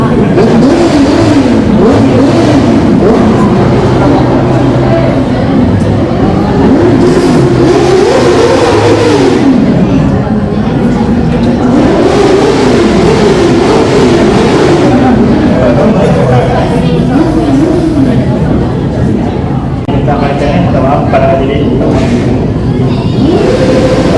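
Motorcycles in a Ramadan visiting convoy pass close by in a loud, unbroken stream, engines rising and falling as they rev and go by, while voices chatter underneath.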